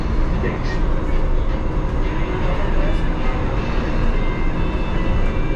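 A Las Vegas monorail train runs with a loud, steady rumbling roar and rail hum throughout, close by from onboard, with no pauses.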